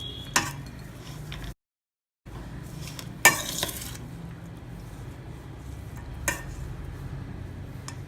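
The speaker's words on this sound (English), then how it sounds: "And mix it gently, and you should not break the rice." Mango rice is gently mixed with grated raw mango and fried peanuts in a pot: quiet, steady scraping with a few light utensil clinks and one brief silent gap.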